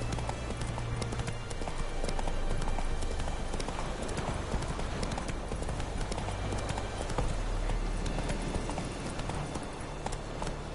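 A horse gallops in a PS4 video game, a dense, continuous rapid clip-clop of hooves running steadily and loud throughout.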